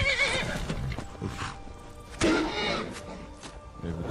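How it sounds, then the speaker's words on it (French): A horse in the video game Skyrim whinnies sharply after being struck, two loud neighs over clip-clop hooves and a faint engine-like rumble. "Non, c'est mon cheval que j'ai frappé"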